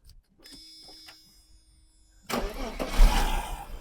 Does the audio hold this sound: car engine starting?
yes